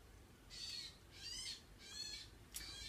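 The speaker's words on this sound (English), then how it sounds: "there's a really noisy bird" A loud bird calls outside in four harsh, evenly spaced bursts, each about half a second long, with steady low background noise between them and no talking.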